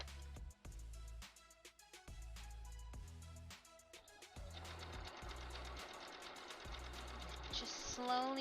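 A sewing machine runs in close, steady bursts, its needle clattering rapidly through fabric for a Poison Ivy cosplay costume, pausing briefly between runs before settling into a longer continuous stretch.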